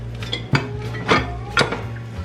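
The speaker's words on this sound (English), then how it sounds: "I'm gonna throw it on my tortilla press, cover it up with plastic so it doesn't stick" Corn tortilla dough is squashed between plastic sheets in a tortilla press, with three distinct metallic clanks and clunks of the press spaced about half a second apart over a low steady background hum.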